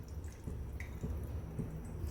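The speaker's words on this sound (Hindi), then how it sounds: "अभी भी देखो काफ़ी पानी निकल रहा है, लेकिन साथ में ना दही भी निकल जाता है इसमें से ऐसे ही" Water dripping from hung curd draining in a kitchen, soft irregular drips and small splashes, faint and close, with no talk.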